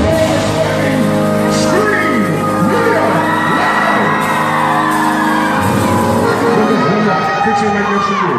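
Crowd of middle school children at a community education center screaming and cheering loudly together, a continuous dense roar of shouts and whoops that holds at full level throughout.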